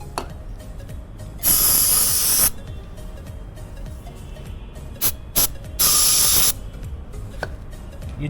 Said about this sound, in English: The moment I spray, you'll see the difference.